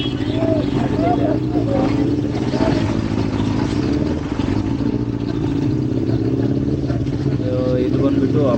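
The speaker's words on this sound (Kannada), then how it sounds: "ಟೆಸ್ಟ್ ಡ್ರೈವ್ ಮಾಡೋಣ ಅಂತ ಗಾಡಿ ಹತ್ಕೊಂಡು ನಮ್ಮ ಏರಿಯಲ್ಲ ಎತ್ಕೊಂಡು ಹೋಗಿದ್ದೆ" A Benelli motorcycle rides through a congested neighbourhood school road on a test drive, its steady engine drone and road rumble continuous throughout, with a rider's voice talking over it.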